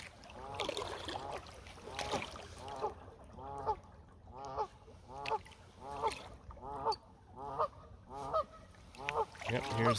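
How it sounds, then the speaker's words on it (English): A goose honks repeatedly in a steady series of loud, close calls on a river channel by a slough, heard from a paddled canoe or kayak, with faint water sounds beneath. "Yep, here's the goose."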